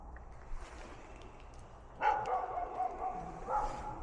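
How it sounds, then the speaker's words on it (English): A dog barks outside at night, a few faint, distant yaps at first, then a louder burst of barking and whimpering partway through, with no talking. "Thought I heard another dog out there."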